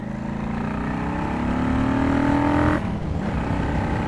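A 2006 Honda VLX600 motorcycle engine pulls steadily under load while riding, its pitch rising through a gear before a brief drop as the rider shifts, then settling into a lower, continuous drone; close and loud with no talk.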